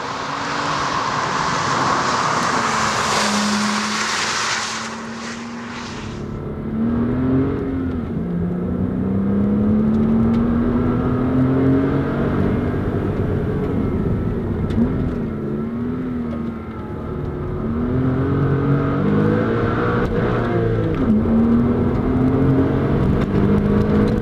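Porsche Cayman S 3.4 flat-six working along winding roads, engine note swelling and dropping as it accelerates and lifts off repeatedly, heard close and continuous after a brief burst of broadband road noise at the start.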